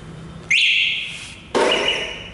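An electric scooter's alarm siren, an Okinawa Praise model, sounds in two loud piercing electronic bursts, each starting abruptly and sliding downward in pitch before fading slightly, with a short gap between them.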